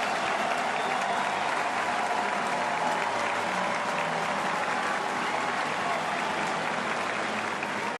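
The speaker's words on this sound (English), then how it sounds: "A nice hand from the Camden Yards crowd for Dean Kramer." Baseball crowd at Camden Yards applauding a departing pitcher during a Rays–Orioles game, a loud, sustained roar of clapping across the stadium, steady for several seconds with faint broadcast talk underneath.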